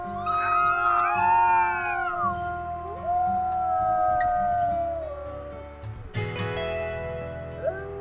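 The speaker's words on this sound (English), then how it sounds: "we can still have some pack howling over here" Wolf pack howling in WolfQuest: Dragon Pack, several overlapping long sliding howls rising and falling together, loud and close, with a fresh burst of howls near the end.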